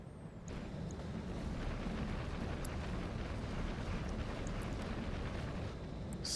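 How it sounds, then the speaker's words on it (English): Explosions from sensor mines in the RogueTech mech combat game, a dense continuous rumbling roar that holds steady and loud throughout, with a few faint high clicks on top. "Set off some sensor mines."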